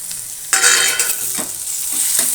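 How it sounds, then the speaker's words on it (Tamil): Onion and tomato sizzle loudly in a pan for a cabbage and chana dal gravy. The sizzle jumps up halfway through and is marked by a few quick spatula scrapes. "வெங்காயம் நல்லா வதக்கிக்கலாம். வதக்கின பிறகு தக்காளி போடலாம்."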